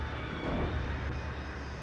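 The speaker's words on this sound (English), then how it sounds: "those birds attacking that helicopter?" A helicopter drones in the Alan Wake video game, a steady broad rumbling whir that holds at an even level throughout without any talking.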